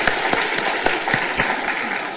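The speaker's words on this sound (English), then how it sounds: "Let's give him another round of applause." Short burst of audience applause at a talk on the future of the American public library, steady clapping from a room of people with no talk over it.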